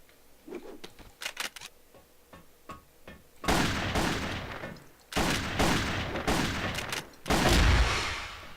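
Rapid bursts of gunfire from the video game Crossfire, sparse sharp shots at first, then dense sustained volleys that fill most of the stretch, loud and close with no talking.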